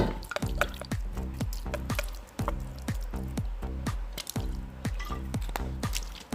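Light soy sauce poured into coriander root, garlic and turmeric for a Thai baked chicken dish, giving a rapid, regular series of close, wet glugging drips over several seconds, with no one speaking.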